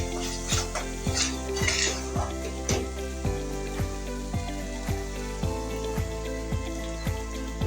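Masala paste for a broiler chicken curry, already releasing its oil, stir-fried in a pan with intermittent clinks and scrapes of a spoon against the metal, under a steady rhythmic music track.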